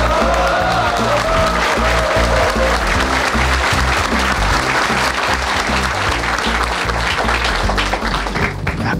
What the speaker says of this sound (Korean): 야, 끝났다 싶어 좋아라 박수 쳤지.